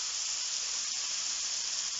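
Steak searing in oil in a hot pan, a steady, loud hissing sizzle that holds evenly without pause, close up and with no voices.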